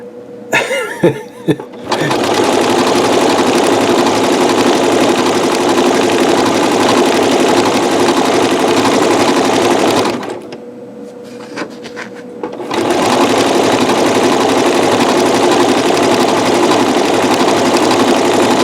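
A Janome MC9900 sewing machine stitching quilted fabric with metallic thread, a loud continuous motor hum broken by a short pause before resuming, with a few thumps at the start.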